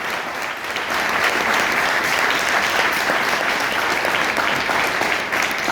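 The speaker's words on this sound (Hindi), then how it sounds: "तो जोरदार तालियां होनी चाहिए" Workshop audience at a direct-selling training session bursts into vigorous, sustained applause, thick steady clapping filling the room for several seconds without talk.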